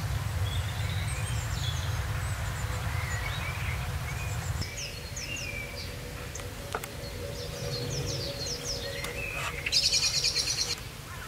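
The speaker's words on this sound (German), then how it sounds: "Die unterschiedlichsten Arten von Finken sind nun da." Several finches sing and chirp in spring on the Vossmoor in April, with bright repeated calls from more than one bird over a low background rumble that drops partway through.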